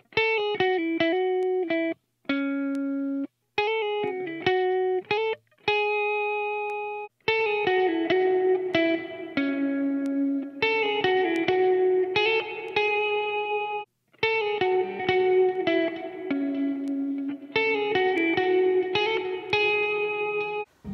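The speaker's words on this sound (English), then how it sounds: "The Dynamic Hall Reverb has a lot of motion in it, and it gives it a really full sound" Electric guitar chords and sustained notes through a Line 6 Pod Go's Dynamic Hall reverb, lush and spacious, ringing on smoothly with short pauses between phrases.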